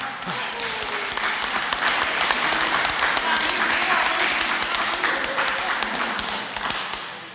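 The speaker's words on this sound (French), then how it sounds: "Bonne main d'applaudissements." A crowd at a home show claps for a barbecue prize winner, sustained dense applause with sharper individual claps standing out, some voices mixed in, fading slightly at the end.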